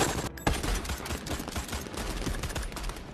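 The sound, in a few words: gunfire during a film shootout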